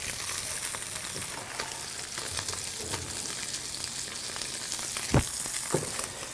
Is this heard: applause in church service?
no